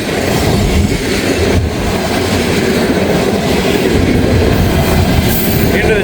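A CSX or Norfolk Southern freight train rumbles past in the rain in Kentucky, loud and close, with steady wheel clatter and roar that hold for the whole stretch.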